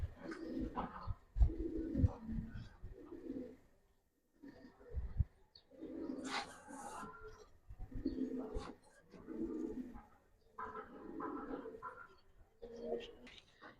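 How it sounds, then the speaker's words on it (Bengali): A pair of original old-breed Bagha pigeons coo close by in a series of soft, throaty, repeated calls with short pauses between bouts, and a few brief faint chirps in the mix. "দারুণ একটা পেয়ার বাঘা কবুতর পুরান জাতের অরিজিনাল বাঘা কবুতর"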